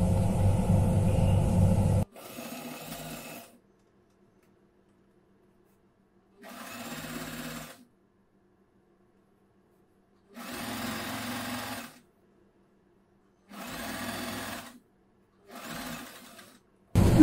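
Sewing machine stitching along the folded edge of churidar pant fabric, running in five separate bursts of one to two seconds each, with silent pauses between them and no talk.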